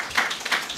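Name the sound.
applause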